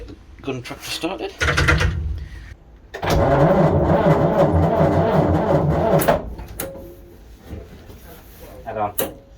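A Scammell gun tractor with a Gardner diesel engine cranks and catches, settling into a loud, steady rumbling idle for a few seconds before dropping away, with people talking nearby before and after.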